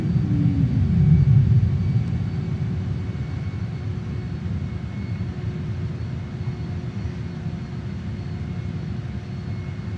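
A JAS-39 Gripen jet in a flight simulator game touches down, its engine producing a constant loud rumbling roar with a brief whine early on, holding steady to the end.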